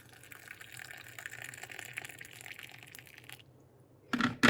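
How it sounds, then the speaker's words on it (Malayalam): Hot water poured from a kettle into a cup for tea, a soft steady trickling fill that ends abruptly, followed by a short louder clink or splash. "ഇനി ഇതിലേക്ക് സിമ്പിളായിട്ട് ഈ വെള്ളം ഒഴിച്ചു കൊടുത്താൽ,"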